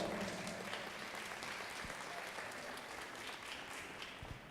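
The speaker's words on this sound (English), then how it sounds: "give this first heat of senior showman a nice round of applause" A crowd at a junior livestock show beef showmanship ring claps steadily. The applause is faint and distant, with a few thumps underneath.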